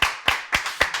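Scattered hand claps at an award ceremony honouring winners of an export company prize: four sharp, evenly spaced claps across a second, close and fairly loud, with no voices.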